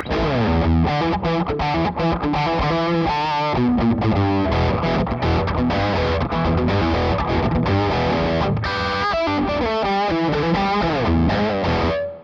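Overdriven electric guitar through a Devilcat Jimmy tube amplifier plays a continuous riff with chords and single notes, loud and steady throughout, with a gritty distorted tone and no talking.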